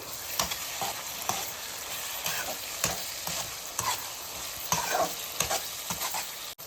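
Gongura galaboti curry with chilli powder, turmeric and masala coating the pieces, simmering in a pan with a steady sizzle and occasional stirring scrapes at a gentle rhythm, close and moderately quiet, no voices.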